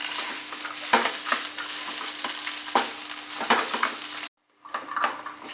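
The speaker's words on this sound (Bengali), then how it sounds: "এভাবে আমি আরো 3 মিনিট মতো এটাকে ফ্রাই করব।" A veg burger mixture fries in a pan with a steady close sizzle, broken by scraping stirs and clinks of a utensil on the pan, then a brief silence before the frying resumes.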